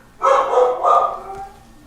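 A dog at a Detroit pit bull rescue gives a short, close, loud bark that drops into a brief whine, with no other sound around it.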